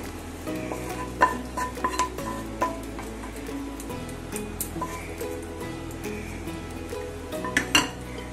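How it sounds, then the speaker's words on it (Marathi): Cooked pumpkin is scraped and poured from a pot onto a plate, making a string of metallic clinks and scraping knocks, with sharper utensil strikes near the start and again toward the end, against a steady low background hum. "आता आपण गॅस बंद करू, हे ताटात ओतून घेऊया।"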